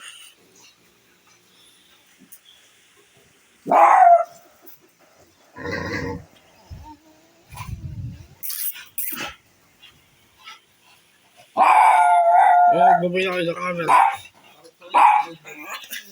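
Dogs bark and howl in short, scattered bursts, with one longer drawn-out howl near the end, heard between bits of nearby talking.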